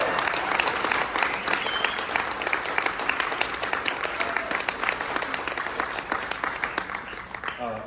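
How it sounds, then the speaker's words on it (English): Sustained audience applause fills the room, dense steady clapping from many hands close and loud for several seconds before tapering slightly at the end, with faint voices mixed in. "That deserves a round of applause"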